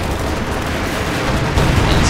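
Artillery fire in a Company of Heroes 2 battle with tanks and gun crews on ice: a loud continuous rumble of explosions and gunfire blending into a dense roar.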